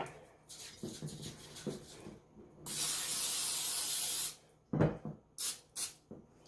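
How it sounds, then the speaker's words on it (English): A long hissing burst of Pam cooking spray from an aerosol can onto a bread pan, followed by several shorter spritzes, with faint handling noises between them. "So I'm going to spray this with some Pam"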